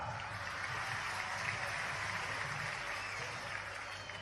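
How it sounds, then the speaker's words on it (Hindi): An audience at a public inauguration and foundation-laying event in Barwara claps in a steady, dense wash of applause, heard from a distance and fairly faint throughout. "आपने ताली अच्छी बजाइए।"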